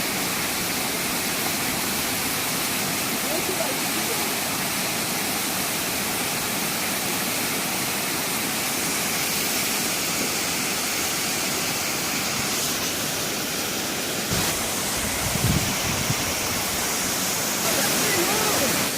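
Steady roaring rush of Melincourt Falls in South Wales fills the whole stretch, broadband and constant, with faint voices briefly audible beneath it.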